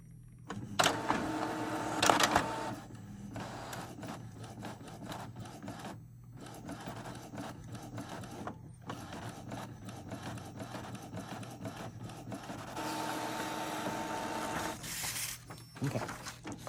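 An Epson EcoTank printer running a head nozzle check print, with repeated mechanical whirring and rubbing passes of the print head and short pauses between them, fairly quiet and close.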